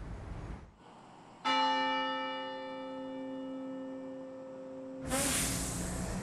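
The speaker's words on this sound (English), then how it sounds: "There were three chimes in total, followed by several minutes of quiet." The UNC bell tower chimes once with a deep bell, ringing out with a long, slowly fading resonance, before a loud rush of noise cuts in at the end.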